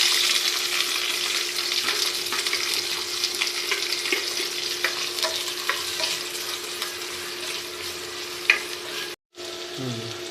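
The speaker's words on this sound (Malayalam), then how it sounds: "അതിലേക്ക് ഇഞ്ചി പച്ചമുളക് ചെറിയുള്ളി സവാള വെളുത്തുള്ളി എല്ലാം കൂടി ഇട്ട് മൂപ്പിക്കാൻ പോവാം" Ginger, green chilli, shallots, onion and garlic sautéing in hot oil for a fish curry, a loud, even sizzle with occasional stirring scrapes close by, and a brief cut near the end.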